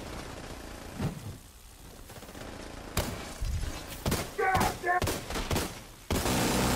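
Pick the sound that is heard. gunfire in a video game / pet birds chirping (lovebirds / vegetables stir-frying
gunfire in a video game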